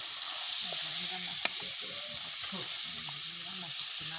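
Meat goes into spices frying in oil in a home kitchen, a steady close sizzle and hiss throughout, with faint clinks and muffled voices in the background.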